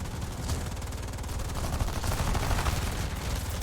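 Rapid machine-gun fire rattles continuously as bullets strike a Bf 109 E-7 fighter in an aerial combat game, a dense steady stream of shots throughout.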